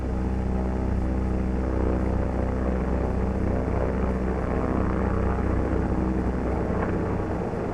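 C-47 Skytrain propeller engine droning steadily during feathering, a dense continuous roar with layered low tones that holds at even loudness throughout.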